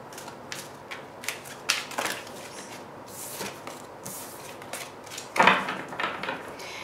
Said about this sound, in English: These big cards always give me a hard time shuffling